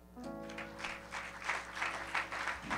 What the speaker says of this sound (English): This ovation is for the Lord.